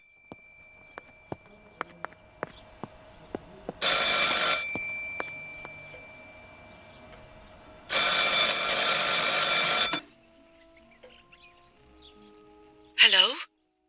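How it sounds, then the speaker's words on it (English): A telephone rings in the video game Martha Is Dead, two long loud bursts of bright ringing with a gap between them. Footsteps and small clicks come first, then quiet tones and a short final ring. "I should pick up the phone but remain silent."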